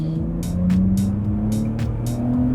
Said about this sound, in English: Do you want to try your first proper acceleration in this car?